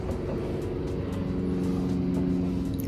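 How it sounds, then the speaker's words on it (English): A steady, distant engine drone hums overhead as an aeroplane passes, a continuous low rumble with faint tonal layers throughout. "Oh, an aeroplane going over."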